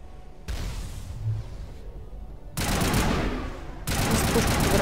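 Gunfire in the Mass Effect video game: dense, loud bursts of rapid shots and rumbling blasts in surging waves, with a brief lull between.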